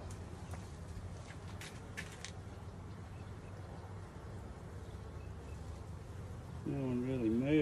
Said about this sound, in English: tons of little bees in it.